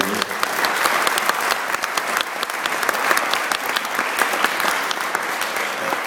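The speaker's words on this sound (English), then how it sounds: "I think they deserve a round of applause" A room full of guests at a retirement party claps for the caterers, a dense, sustained round of applause lasting several seconds, loud and close.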